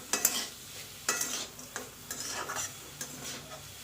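Carrot halwa with dry fruits is stirred in ghee in a pan, with repeated close scraping strokes of a spoon against metal over a soft, steady sizzle.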